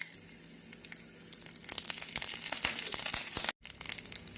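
Mustard seeds, urad dal, curry leaves and dried chillies fry in hot oil as a tempering for coconut chutney, a close, crackling sizzle with sharp pops that grows busier before a brief break.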